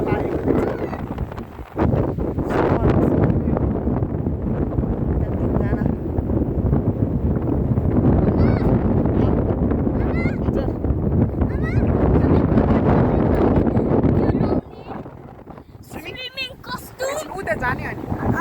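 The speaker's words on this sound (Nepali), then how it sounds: "आज चाहिँ एकदम धेरै हावा लागेको छ" Strong wind buffets the microphone at the seaside in Knokke, a loud continuous rushing roar that drops suddenly near the end and then gusts again, with voices faintly audible beneath.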